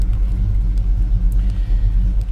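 1984 Chevy C10 truck with a four-speed manual gearbox, its engine running at a loud, deep, steady rumble close by, with a slightly uneven idle pulse and no talking over it.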